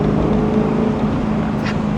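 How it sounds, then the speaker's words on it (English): A 2010 Maserati GranTurismo Convertible with a Ferrari-derived V8 idling in sport mode, its exhaust giving a steady, deep, loud rumble close by with no talking. "this is in sport mode with the exhaust."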